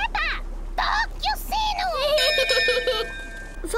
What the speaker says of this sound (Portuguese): Peppa, toque o sino!